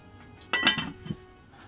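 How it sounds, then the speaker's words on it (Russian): A metal lid clanks down onto a heavy cast-iron kazan pot: a short clink and rattle, then a softer settling knock, close up in a quiet room. "Накрываем крышкой."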